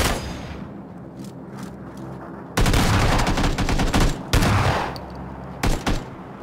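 Shotgun gunfire in PUBG rings out in loud bursts, a dense cluster of shots followed by a couple of single blasts.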